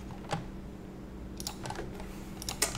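Computer keyboard typing in a quiet room, a few soft scattered key clicks with a small burst near the end rather than steady rapid typing.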